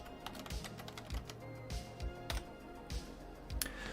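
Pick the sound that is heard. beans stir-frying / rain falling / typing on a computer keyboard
typing on a computer keyboard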